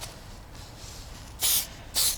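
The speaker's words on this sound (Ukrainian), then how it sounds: "а там ще пшикну" Two short, close hissing spray bursts of Juice Lubes Scrub and Buff bicycle polish, about half a second apart, over quiet room background.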